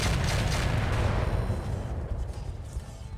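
Cannon and missile fire from a mech in a video game, a loud rushing blast that rolls on for over a second and then fades into a rumbling, crackling tail.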